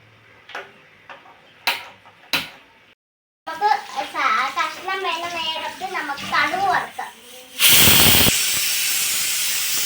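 A loud burst of hissing steam from a pressure cooker erupts after some speech and clatter, then settles into a steady continuous hiss.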